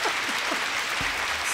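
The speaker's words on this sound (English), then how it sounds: "Round of applause." Brief burst of applause from a small group, steady and moderately close, filling the short moment after a shout-out on a podcast episode.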